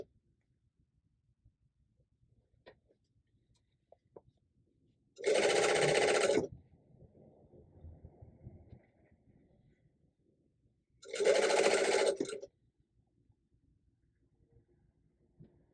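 A sewing machine stitches denim jeans at stitch length 3 in two short loud bursts of rapid needle chatter, each about a second long, separated by quiet handling of the fabric.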